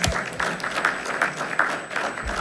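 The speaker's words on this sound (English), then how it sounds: "Let's give him another round of applause." Applause fills a room at an annual beautification awards ceremony, a warm, sustained crowd clatter with slight swells in loudness and no one speaking over it.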